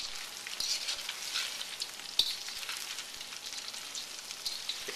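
Pork pieces deep-fry in hot oil on a burner, a dense continuous bubbling sizzle with scattered crackles and pops, close and moderately loud with no talking.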